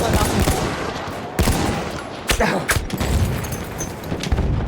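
Rifle gunfire in Battlefield 1, a few sharp loud shots cracking out over a dense, noisy battlefield din with other combat sounds throughout.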